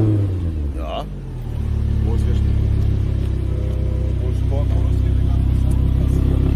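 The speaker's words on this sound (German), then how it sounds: "Gefällt mir, Audi. Ist auch schöner Sound." An Audi engine starting up and revving, a rising mechanical roar that settles into a loud steady drone, close by.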